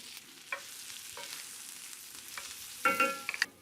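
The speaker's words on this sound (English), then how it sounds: "we're gonna start now with our leeks in the pan." Leeks fry quietly in a pan for mushroom risotto, a faint steady sizzle with a few soft scrapes and a brief clatter of utensil near the end.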